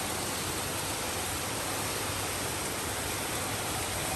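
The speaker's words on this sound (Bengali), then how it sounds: "পাচ্ছ কি জোরে বৃষ্টি হচ্ছে, জাস্ট দেখো মুষলধারে বৃষ্টি হচ্ছে।" Heavy rain pours down in a dense, unbroken hiss that stays even and fairly quiet throughout, with no other sounds breaking through.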